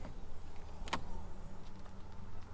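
On a 2020 Mini Cooper Electric hatchback, the rear hatch releases with a single sharp latch click over a low, steady hum, nearby and otherwise quiet.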